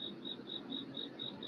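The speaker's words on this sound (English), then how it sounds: "The frogs are sure croaking." Outdoors at night, insect- or frog-like calls repeat in a steady, regular pulse of short high chirps, faint and somewhat distant over a low background murmur.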